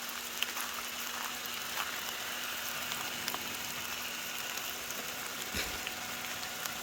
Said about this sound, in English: And I did it in the rain. Rainy Sunday morning.